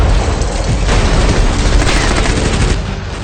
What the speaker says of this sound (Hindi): जमीन और हवा से विस्फोट कर रूसी सेना यूक्रेन की धरती को इसी तरह दहला रही है।